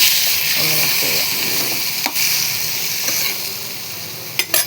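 Turmeric-coated shallots and banana stem fry in a hot pan with popping mustard seeds for a coconut stir-fry. The sizzling is loud and continuous, broken by a few scraping stirs and clinks near the end.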